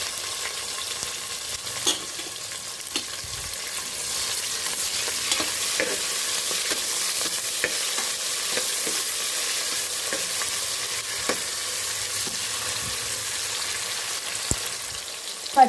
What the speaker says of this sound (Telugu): కుక్కర్లో కొద్దిగా ఆయిల్ పోసాం. ఆయిల్ హీట్ అయింది. ఆనియన్స్ వేస్తున్నాం.